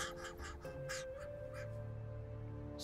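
Wild crows give a series of harsh, rhythmic caws, several distinct calls spaced about a third of a second apart at moderate distance, fading out toward the end over quiet background hum.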